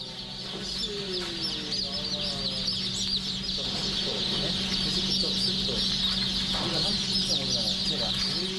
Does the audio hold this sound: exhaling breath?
no